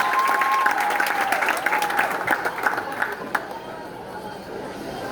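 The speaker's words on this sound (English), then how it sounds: "Give them another round of applause." Steady applause from an audience at a high school leaving ceremony fills the room, dense clapping that gradually thins and fades toward the end.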